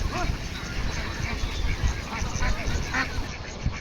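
Egg-laying ducks on a duck farm, a flock quacking in repeated overlapping bursts close by, with some human voices mixed in.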